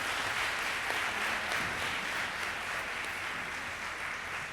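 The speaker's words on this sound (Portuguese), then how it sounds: "pedir uma salva de palmas especial para as painelistas" Audience at a conference panel session applauding the panelists, a steady, even wash of clapping that holds without pause and tapers slightly at the end.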